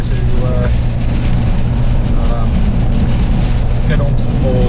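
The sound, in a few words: strong wind buffeting a 2019 Suzuki Jimny while driving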